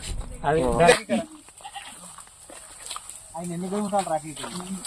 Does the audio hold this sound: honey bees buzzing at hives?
no